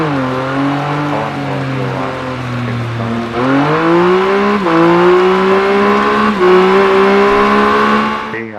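Triumph motorcycle engine in the Ride 3 racing game revving steadily at a wet Donington Park race start, a loud continuous drone that climbs in pitch in stages with brief throttle blips, no talk over it.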